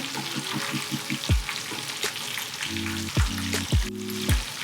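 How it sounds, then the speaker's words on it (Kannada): KFC-style chicken pieces frying in hot oil over a medium flame, a steady close sizzle with periodic scrapes and knocks as the pieces are turned, with no talk. "ಮೀಡಿಯಮ್ ಫ್ಲೇಮಲ್ಲಿ ಇಟ್ಕೊಂಡು ಬೇಯಿಸ್ಕೊಂಡ್ರೆ ಆಯಿತು"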